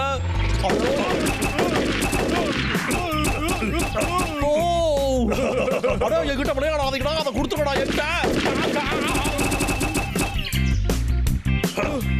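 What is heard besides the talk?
cartoon gunfire sound effect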